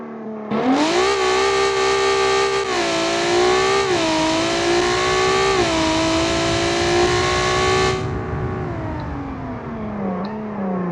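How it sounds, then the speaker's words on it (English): A race car engine in the BeamNG driving game revs hard and holds a loud, steady, buzzing note with rising and falling pitch for several seconds, then cuts back to a quieter idle. "Can you hear the car, guys? Can you hear the engine?"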